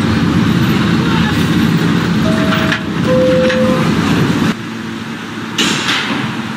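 A New York subway Q Express train at Newkirk Plaza station gives off a loud, steady rail rumble with brief whining tones partway through, then a sudden drop and a rise in noise near the end.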